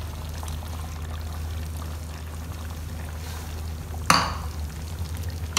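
Chopped tomatoes and half a cup of yogurt are tipped into a pot of mutton korma, landing with a sudden wet plop and brief splash midway, over a low steady stove hum with no talking.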